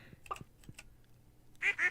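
Ducks quack in a farm coop in the video game Stardew Valley, a few soft calls followed by two loud, close quacks at the end.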